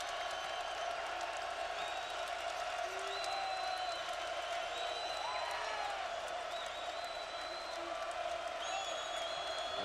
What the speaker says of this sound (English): Listen to the crowd, ladies and gentlemen.